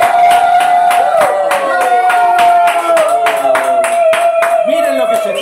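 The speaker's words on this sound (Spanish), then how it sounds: "fuerte el aplauso para recibir a Maxi de la Cruz, Maximiliano." A television variety-show studio audience claps steadily to welcome a guest, the sharp hand claps close and even, layered over a sustained bright tone and music that run throughout.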